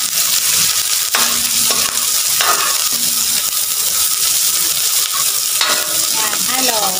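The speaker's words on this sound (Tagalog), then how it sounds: "Then, halu-haluin." Sliced onions stirred into pork adobo frying in a pan, loud steady sizzle with repeated spatula scrapes and clanks against the metal, and a few light clinks near the end.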